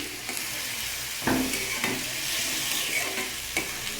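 Leafy stem greens and okra stir-fry in a hot pan with a steady, close sizzle and occasional scrapes from the stirring utensil.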